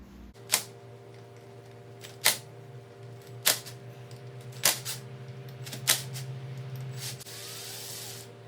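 Clutch cover bolts come off a Honda 400ex ATV one after another, five sharp ratchet or wrench clicks spaced about a second apart over a quiet low hum, close up with no talk.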